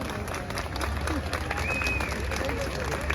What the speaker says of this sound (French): Applaudissez pour eux, pour votre venue.